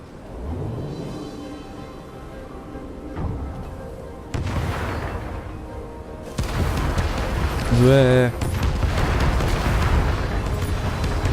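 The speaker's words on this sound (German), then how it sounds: "Voll die Kanonen hier" Cannon fire booms out in the video game Stories: The Path of Destinies: heavy blasts and rumbling impacts that build toward the end, with a brief tonal swell, while someone talks over them.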